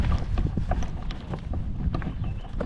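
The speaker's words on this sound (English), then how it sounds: "We got some wind coming again, as always" Wind gusts across a lake on a Boundary Waters canoe trip, a loud continuous low rumble of buffeting against the microphone with faint knocks and water movement.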